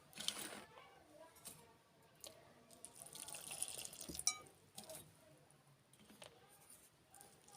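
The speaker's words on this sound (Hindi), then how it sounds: "पानी शामिल करेंगे।" Quiet trickling and dripping of jaggery water into a bowl of dough mixture, soft and close, with faint clinks and background rustle.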